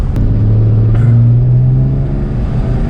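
Nissan GQ Patrol diesel engine held at full throttle from inside the cab, a loud, steady low droning rumble with a slowly rising tone and no turbo, sustained throughout.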